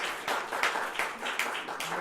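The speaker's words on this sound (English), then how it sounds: "Please, let's clap it up for Dr." An audience claps for a guest speaker at a storytelling event at Puffin, moderate applause with a few sharper individual claps standing out, fairly quiet and steady throughout.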